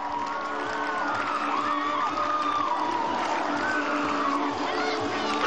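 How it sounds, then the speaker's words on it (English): Rugby stadium crowd at a Tonga versus Japan match cheering after a successful conversion, a broad, sustained roar with whoops and shouts carrying at a steady level. "Crowd love it."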